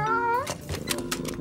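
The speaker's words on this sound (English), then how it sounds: "A black cat across our path." A cartoon black cat meowing, one drawn-out rising meow followed by scattered noisy rustling, loud and close.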